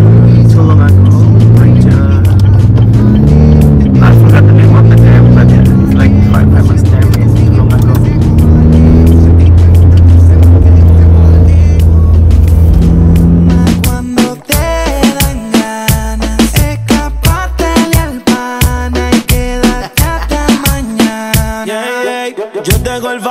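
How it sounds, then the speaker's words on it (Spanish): A group of Honda Brio cars driving together on the way to Tulungagung at a community gathering, engines loud and steady with passing-vehicle whoosh, overlaid by loud music with a singing voice throughout. "So look at that, all Honda Brio cars."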